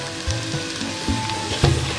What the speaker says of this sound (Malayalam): ഇത് ചേർത്ത് നന്നായി ഇളക്കി കൊടുക്കുക.